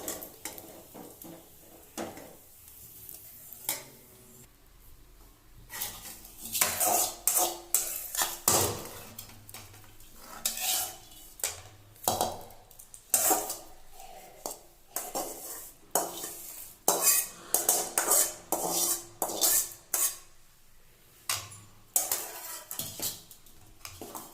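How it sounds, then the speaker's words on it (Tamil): A ladle stirs bottle gourd curry in a metal pot after the tempering is added, making repeated sharp clanks and scrapes in irregular bursts. The sounds are close and moderately loud, with no talking. "இப்போ இந்த குழம்பு வந்து நல்லா கலக்கி விட்டுக்கலாம்."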